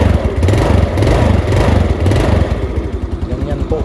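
A motorcycle engine fires up on a single press of the starter, powered by a 32650 LiFePO4 battery, then settles into a loud, close, steady idle with throbbing low pulses; a voice talks over part of it.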